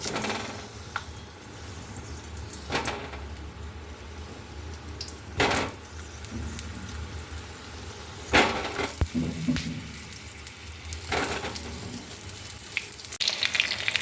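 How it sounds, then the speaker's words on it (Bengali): Pointed gourds frying in hot mustard oil, a steady quiet sizzle and crackle throughout with a few louder bursts of spatter and occasional clinks of the utensil, close up and with no talking. "তো প্রথমে আমি এই পটলগুলো একটু ভেজে নেব।"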